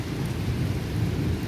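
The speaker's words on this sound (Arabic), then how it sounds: "حمقني الشتا" Rain falls hard outside with low thunder rumbling underneath, a dense, steady wash of sound, close and loud with no voices.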